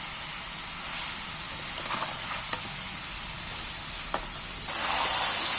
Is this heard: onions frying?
yes